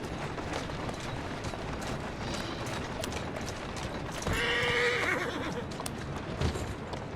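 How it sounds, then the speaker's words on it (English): A horse in Assassin's Creed Syndicate lets out a loud, clear whinny in the middle of the clip, with faint hoof clatter and game ambience around it. "Who's a good horse?"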